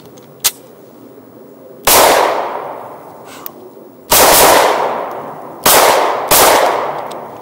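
HK VP9 pistol fired at an outdoor range: five loud, sharp shots spaced irregularly, each with a long ringing decay, and no talking.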